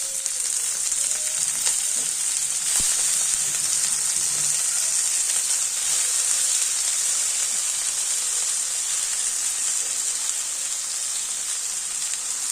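Fenugreek greens frying with onion and garlic in a pan, a steady close crackling sizzle that runs unbroken, with a few faint stirring clicks and no talking.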